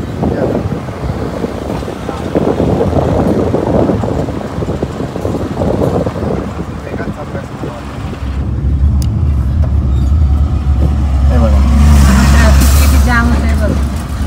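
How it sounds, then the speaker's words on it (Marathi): Trucks and cars pass on the Mumbai-Goa highway in a loud, steady rumble. Heavy wind buffets the microphone, and a nearer vehicle swells up toward the end while a voice talks over it. "इथे आता ट्रॅफिक होतं"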